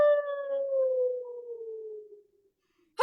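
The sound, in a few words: person imitating a short wolf howl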